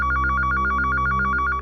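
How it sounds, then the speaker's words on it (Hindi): A telephone rings with a rapid, warbling electronic trill repeating steadily, close and clear. "थैंक गॉड, सही समय पे फोन आ गया।"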